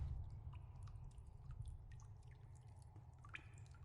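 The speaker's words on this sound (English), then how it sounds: "I think I'm just hearing water droplets." Water droplets dripping in a video game's dark dungeon area, a scattered series of small plinks over a low rumbling ambience, fairly quiet and irregularly spaced with no talking.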